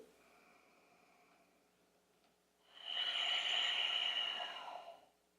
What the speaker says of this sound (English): Big breath in. Take a big breath out.